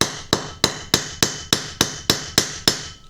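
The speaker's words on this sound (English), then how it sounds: "hammer it inside" A hammer drives a front wheel bearing into a Xiaomi M365 electric scooter, ten sharp metallic strikes at an even, quick pace, close and loud, each with a brief ringing decay, with no voices.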